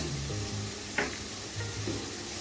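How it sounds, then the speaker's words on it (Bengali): Steady sizzle of onions frying in a pan, with a brief scraping stir partway through; no voices. "আমার পেঁয়াজটা ভাজা হয়ে গেছে"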